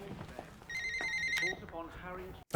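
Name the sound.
telephone ringing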